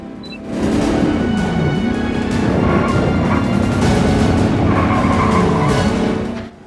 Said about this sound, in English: You would not believe how long it took to nail that handbrake turn